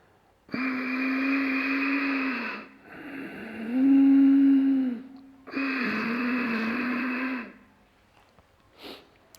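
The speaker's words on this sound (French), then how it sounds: "L'avantage de faire le Ujjayi fort, c'est que le son est plus fort." Forceful ujjayi yoga breathing: three long, loud, hissing breaths with a throaty rasp, alternating inhale and exhale, each lasting about two seconds, followed by quiet.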